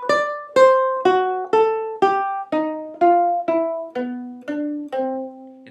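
Ukulele picks out a slow run of about eleven clean, evenly spaced single notes, each circling a chord tone from neighbouring pitches in a gypsy jazz triad embellishment, ringing alone and close with no voices.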